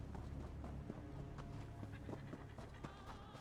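Horse hooves clip-clopping at a slow, uneven gait while riding in Elder Scrolls Online, soft and low against a rumbling game background.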